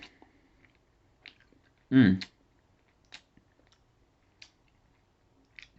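Close, wet chomps of Big League Chew bubble gum come through as sparse clicks and smacks, with one louder, longer burst of chewing near the middle against otherwise quiet room tone.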